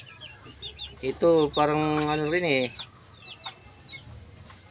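A backyard hen clucks in a short burst of throaty calls, close and moderately loud, with someone speaking briefly around it.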